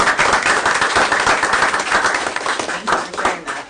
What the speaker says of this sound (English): Clap for that one.